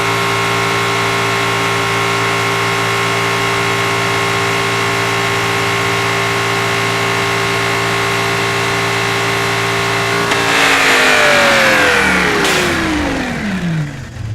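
A V12 engine in the driving game Automation, tuned to about 3,400 horsepower, holds a loud steady drone with stacked harmonics, then surges into a hard rev whose pitch sweeps up and falls away near the end.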